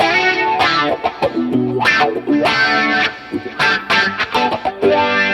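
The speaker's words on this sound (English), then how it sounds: "With a wah." Electric guitar through a wah pedal, a Telecaster on its middle pickup, playing funky, choppy rhythmic chords with sweeping vocal-like tone changes, loud and up close without speech.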